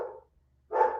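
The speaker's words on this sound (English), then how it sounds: "my dog." Dog giving two short sharp barks separated by a brief silence, close and loud.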